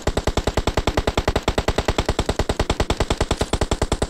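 Rapid automatic gunfire in the mobile game PUBG Mobile, a fast, even stream of sharp shots at roughly ten per second, loud and close, running continuously without a break or any voices.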